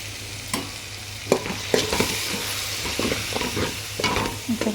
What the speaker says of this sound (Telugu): ఈ పేస్ట్ అనేది ఇప్పుడు దాంట్లో ఫ్రై అయ్యే దాంట్లో వేసేసుకొని కొంచెం మగ్గించుకోవాలండి.